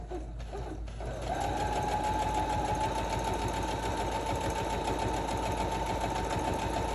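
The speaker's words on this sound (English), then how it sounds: "So I'm sewing super close to the zipper," A sewing machine stitches right along a zipper using an invisible zipper foot, starting after a brief pause and then running as a loud, steady, rapid mechanical whir close by.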